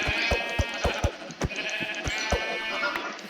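Several Minecraft sheep bleat repeatedly, overlapping wavering cries close by, mixed with regular soft thumping footsteps.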